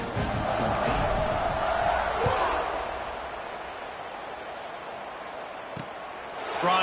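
A video-game football stadium crowd from NCAA 26 roars steadily before a kickoff, a broad wash of cheering that gradually eases off, with a commentator talking over it.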